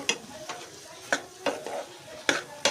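Spoon stirring chana masala in a hot pan as chili powder is mixed in, with a soft frying sizzle under several distinct scraping strokes spread irregularly across the moment.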